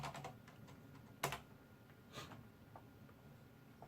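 Quick, light typing on a Corsair Strafe RGB keyboard with Cherry MX Silent switches, scattered keystrokes and a few louder clacks, close up and fairly quiet, no voices.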